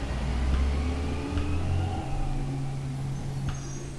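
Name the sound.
garbage truck engine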